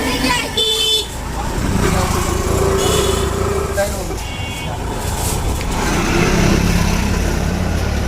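A Bajaj motorcycle engine runs close by during engine noise adjustment work, a steady mechanical drone with brief higher whining tones and clatter, and someone talks over it throughout.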